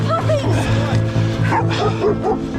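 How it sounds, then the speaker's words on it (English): Several dogs bark and yip aggressively at a mountain biker on a trail, a steady close-range barrage with whimpering yelps mixed in, while someone shouts over them. "Get your dogs off me."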